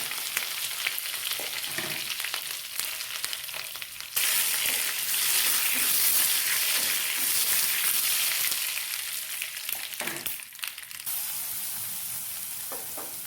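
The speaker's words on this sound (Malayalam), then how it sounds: "എണ്ണ നല്ലപോലെ ചൂടായിട്ടുണ്ട്. നമുക്ക് കുറച്ച് കടുക് ഇട്ട് കൊടുക്കാം." Loud, steady sizzling of mustard seeds frying in hot oil for tempering, with a sharp burst of crackling partway through and brief stirring sounds, no voices.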